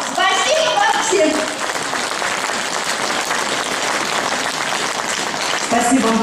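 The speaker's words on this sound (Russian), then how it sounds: "Спасибо вам большое за ваши теплые аплодисменты" A concert audience applauds warmly in a hall, dense and sustained clapping filling the whole stretch, with a voice briefly audible over it at the start and again at the end.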